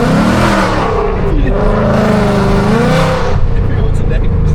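A catless, fully straight-piped Ford Mustang GT roars loud and close, its raw exhaust note rising and falling through continuous revs. Voices mix in beneath the engine.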